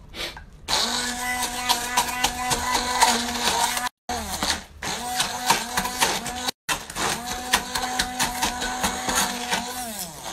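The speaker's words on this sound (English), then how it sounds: "So I'm going to use a hand blender and blend this" A hand blender blending green chilli paste whirs steadily with a harmonic motor whine, briefly cutting out twice before resuming, loud and close.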